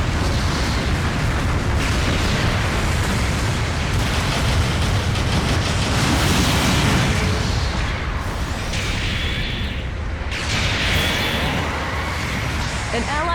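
Heavy explosions from destroyed mobile suits in Gundam Battle Operation 2 boom and rumble continuously amid battle noise, with a voice speaking over the din.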